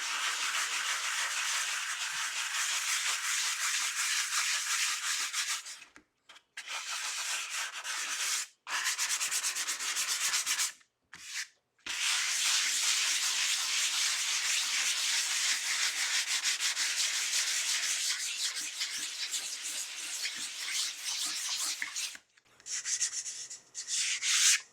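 Wood is sanded by hand with long, continuous rough rubbing strokes, close and steady, broken by a few brief pauses between passes.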